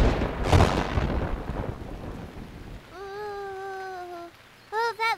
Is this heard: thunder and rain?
yes